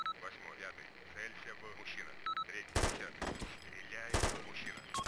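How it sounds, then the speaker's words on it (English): Heavy gunfire erupts in the Arma 2 combat mission 'Operation Cobalt', two loud sustained bursts of automatic fire over radio chatter, beeps and background battle noise, with voices talking throughout. "We are under like heavy fire."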